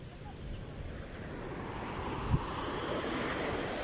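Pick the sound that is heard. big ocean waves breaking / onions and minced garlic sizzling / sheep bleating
big ocean waves breaking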